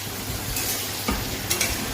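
Okra frying in a wok with salt and turmeric, a soft continuous sizzle with a few brief scraping stirs and light clinks, close and moderately quiet, no talking.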